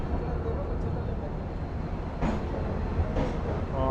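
Udyan Express train pulling into Pune Junction, a steady rumbling roll of the carriages with a couple of brief brighter bursts, heard from on board at close range.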